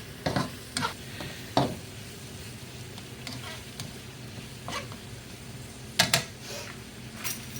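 Shrimp frying in a pan with ginger and rice wine, a steady low sizzle broken by several sharp scraping stirs and clinks of a utensil against the pan, close by.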